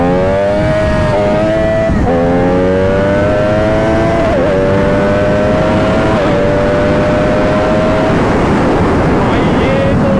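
An MV Agusta F3 sport motorcycle accelerates hard on an evening ride. A strong, tonal engine note climbs in pitch and drops back at each gear shift, with steady wind rush over it and no talking.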